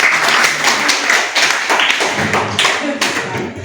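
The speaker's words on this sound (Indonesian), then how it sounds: "Ayo tepuk tangan" A group of people clap and applaud for a student group during a teacher-training class session, a dense, steady patter of many hands held at even loudness for a few seconds, with faint voices mixed in.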